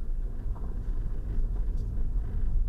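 A 2014 Nissan e-NV200 Combi electric van pulling away, heard from inside as a low, steady road rumble and hum with no engine note, quiet and even throughout.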